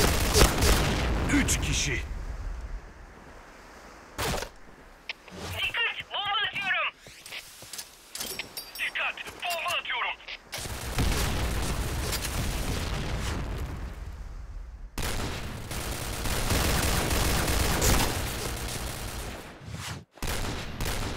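Bomb thrown and exploding in a video game, with broadband blasts and gunfire-like bursts recurring through the scene, loud and close, while voices talk over much of it.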